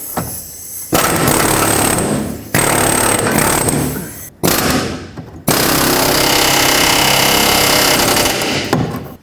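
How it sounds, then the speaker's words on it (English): An air chisel fitted with a splitter bit hammers at the metal of a leaf spring shackle on a 2003-2021 Chevrolet Express, loud and close in harsh bursts: a short one, a longer run, a brief pause, then a sustained rattling stretch. "going to try and use a splitter bit, which has this cutout in it. It's going to start splitting the metal"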